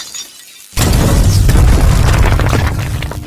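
A cartoon fuse blows with a sudden loud boom and shattering crash after a quiet moment, followed by a sustained noisy rumble that slowly fades.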